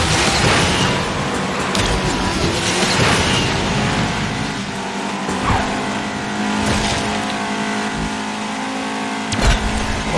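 A Chevrolet Camaro LT races in the mobile game Asphalt 9, its engine roaring continuously with tire squeals, whooshes and sharp impact bursts layered over game music.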